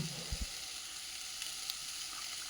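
Cucumber sizzles and fries in a hot stone pot, a steady soft hiss with a couple of brief low knocks near the start.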